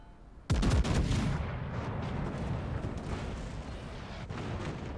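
An artillery salvo in World of Tanks, a single heavy boom with a sudden sharp onset, followed by a long rumbling tail and steady low battle ambience.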